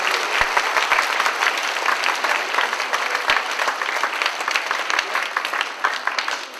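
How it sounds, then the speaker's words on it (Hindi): A gathered congregation at a spiritual event applauds heartily, a steady, dense wash of clapping with a few sharp individual claps standing out, continuing evenly for several seconds. "जोर से ताली बजाएं।"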